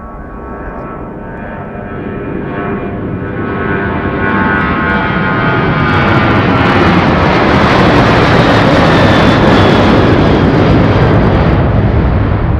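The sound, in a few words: cargo aircraft taking off at Anchorage airport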